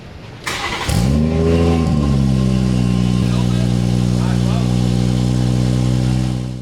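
A BMW 340i engine with sport exhaust cranks and fires up, revs briefly, then settles into a loud, steady low idle that continues to the end.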